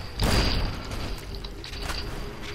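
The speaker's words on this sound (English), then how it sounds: "Grenade rifle? Sounds like a good idea." A grenade rifle fires in Fallout New Vegas, a single heavy boom near the start that decays into a rumbling tail, with faint later thumps over a quiet background.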